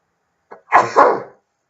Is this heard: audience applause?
no